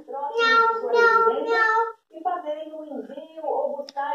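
A child imitates a cat, giving several drawn-out meows in a row, loud and close.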